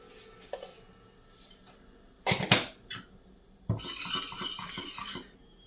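Masala spices stirred and frying in a pan for egg curry, with a burst of metal spoon scraping and clinking against the pan, then a steadier sizzle-and-stir stretch with repeated scrapes; no talk.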